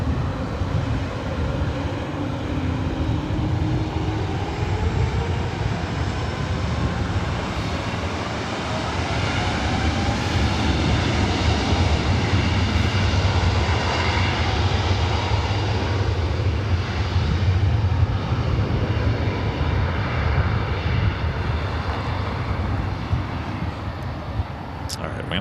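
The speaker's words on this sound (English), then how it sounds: "We're going to let that A321neo head down to 24 right." Delta Airbus A321neo taking off from runway 24 right at LAX, a broad, steady jet engine roar that swells slightly midway and holds loud throughout, with radio or commentary voices faintly beneath it.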